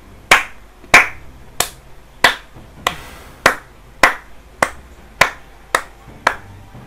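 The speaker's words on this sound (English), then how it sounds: "Give a round of applause for the duo top." One person claps slowly and steadily about eleven times. The claps are sharp and evenly spaced, close and loud, with no other voices.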